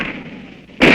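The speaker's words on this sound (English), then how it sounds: "When you hear the gunshots," A gunshot sound effect marking the end of the time limit in a quiz about Britain: one sharp, loud blast bursts in near the end after a low, murky stretch.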